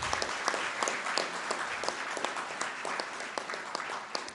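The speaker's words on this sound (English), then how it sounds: "A big round of applause for Dr." An audience claps steadily for a keynote speaker at an STC India 2015 conference, a dense patter of many hands with no voices.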